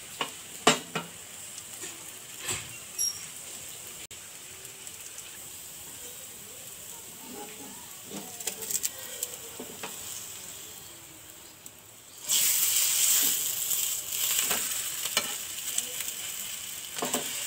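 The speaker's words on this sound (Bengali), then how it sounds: "এটা সুন্দর করে আগে ভাজবো একটু কড়কড়া করে" Food fries crisp in hot oil with a low, steady sizzle and occasional utensil taps, then swells into a much louder, continuous crackling hiss for the final few seconds.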